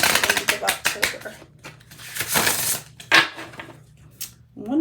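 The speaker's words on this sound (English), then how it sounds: "One more shuffle, and then I'm going to play until one pops." Quick riffling and flicking of a card deck being shuffled, rapid crisp bursts followed by a few slower slaps and taps, close by.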